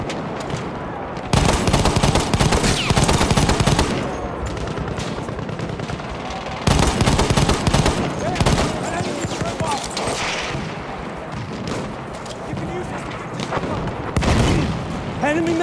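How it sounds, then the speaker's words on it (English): Loud, dense bursts of machine-gun fire and explosions in Battlefield 1 battle gameplay, arriving in heavy waves with rumbling booms between them, while voices shout over the din. "Enemy machine gun!"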